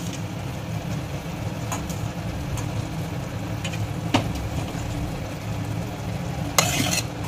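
Chicken being stirred in Schezwan sauce in a pan, a low steady cooking hiss with a few soft scrapes and clinks of a utensil, close and fairly quiet throughout.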